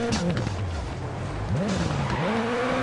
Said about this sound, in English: Extremely hard braking.